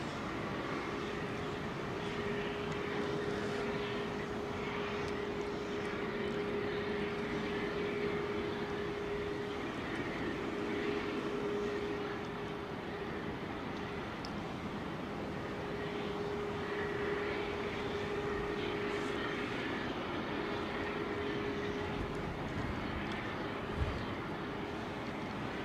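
A Saudia airliner, flight 112 outbound to Jeddah, departs Heathrow Airport as a faint, distant, steady engine drone with a thin sustained tone, holding low and even throughout.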